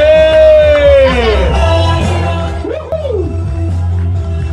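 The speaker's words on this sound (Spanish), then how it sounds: "Un aplauso para los varones de 50 y mayores." Cheering and whooping break out for the men's 50-and-over group at the 2021 open-water swim crossing to Isla Mujeres. A high whistle-like cry slides downward over a steady crowd din, with shouts rising and falling throughout.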